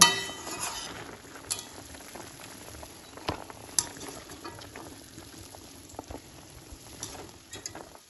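Chicken simmers in a covered pot on a home stove, giving soft bubbling and sloshing liquid noises broken by occasional clinks of a lid or utensil. The sound is quiet and close, with no voices.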